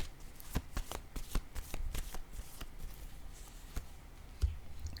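Tarot cards being shuffled and laid down on a table, a close, quiet series of crisp flicks and slaps in irregular bursts, with a soft thud as a card is set down.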